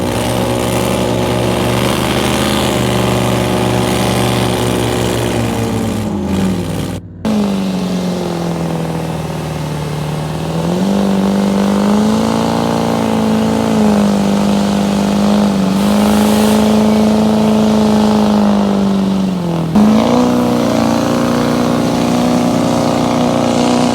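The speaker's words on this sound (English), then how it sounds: "He's warming the motor up." Old 1997 Ford pull truck with a Cummins engine warming up before a pull in front of packed stands, a loud steady idle rising into sustained revs, with a brief cut and pitch swells as the throttle is worked.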